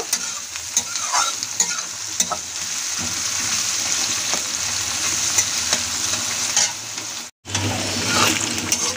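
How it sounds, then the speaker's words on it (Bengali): Six medium chopped onions fry in oil in a pan for a spicy chicken curry, a steady close sizzle with occasional scraping stirs and a brief break near the end. "পেঁয়াজগুলো একটু ভেজে নেব।"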